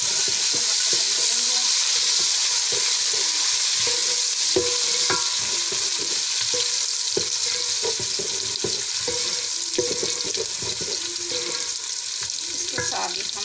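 Garlic, ginger and green chili paste sizzles in a pan with lightly browned onions while being stirred, a steady loud frying hiss with repeated spoon scrapes and clicks while cooking egg chole.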